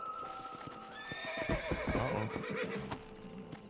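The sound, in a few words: horse neighing and hooves in the video game Red Dead Redemption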